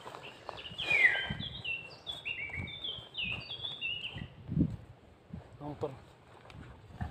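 Bulbuls call outdoors during a bird-hunting outing, a string of short high chirps and whistles early on, moderately near, over soft footsteps and rustling handling noises.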